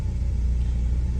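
A 2015 Ford Focus engine idles steadily with a check engine light on, a continuous low rumble held close and even throughout, with no voices.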